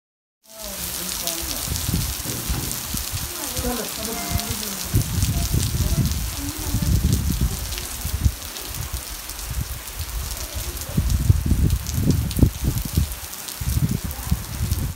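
Heavy rain falls steadily in a town in Azad Kashmir, a dense wash of patter and drops close by, with faint voices and movement underneath.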